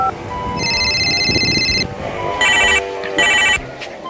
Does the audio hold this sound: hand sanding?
no